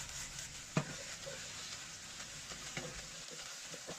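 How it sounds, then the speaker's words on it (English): Kung Pao chicken sauce sizzles in a wok over high heat, a steady quiet hiss and crackle with a sharp clink of the spatula early on and soft stirring scrapes. "Turn on the high heat, add the sauce in,"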